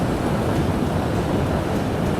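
Ocean waves and surf on a Florida beach: a loud, constant roar of breaking water mixed with wind buffeting the microphone, steady with no distinct individual crashes and no voices.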